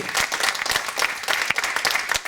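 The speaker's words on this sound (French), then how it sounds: "Je vous demande d'accueillir sous vos chaleureux applaudissements Clarisse Agbenienou du club d'Argenteuil" Audience applause at a French football cup draw event, greeting a judo champion from the French national team; dense, steady clapping throughout, fairly loud and close, with no talk over it.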